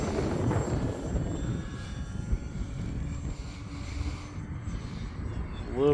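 Flex Innovations QQ Yak 55 RC plane coming in to land on a gusty day, its steady engine drone buzzing fairly close under loud wind rush, with a rising whine at the very end.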